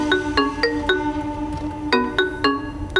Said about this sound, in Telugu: అల్లుడు ఫోన్ వస్తుంది